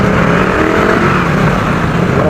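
Dense motorcycle and car traffic roars continuously up close, loud and unbroken engine noise with no pauses, rising and falling slightly as vehicles pass.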